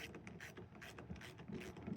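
A clamp being tightened on a 2019 Ford F-150 tonneau cover gives off quiet, steady mechanical ratcheting clicks in a rapid repeating rhythm, close up and with no talking.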